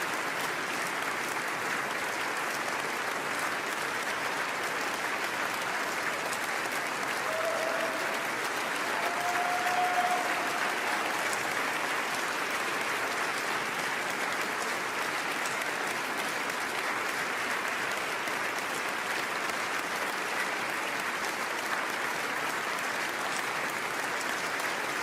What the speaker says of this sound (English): And the applause continues.